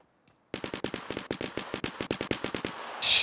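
Rapid automatic gunfire in the video game Fortnite, a steady burst of about twenty sharp shots at an even rhythm after a brief quiet start, loud and close with no voices over it.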